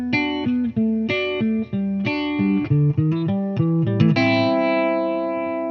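Electric guitar run through an Electro Harmonix Neo Clone chorus pedal at a slow modulation rate, with a little amp reverb, playing a clear melodic line of distinct notes that ends on a sustained, slowly wavering chord.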